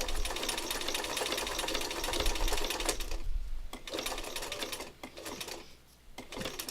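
A sewing machine hammers out zigzag stitching in a dense, rapid mechanical rattle, with short pauses and restarts as the needle runs back over the same seam.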